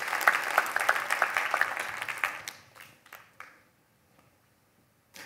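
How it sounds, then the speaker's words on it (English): An audience at a tech talk claps in a brief burst of applause that thins into a few scattered claps and fades to near silence. "Yeah, round of applause."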